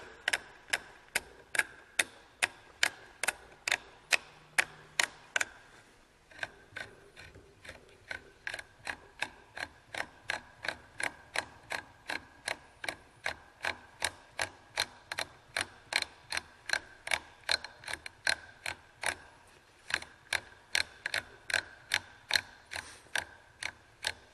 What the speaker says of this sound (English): I try to thread it back just a little bit so you'll feel it catch the threads just right, and then start your descent.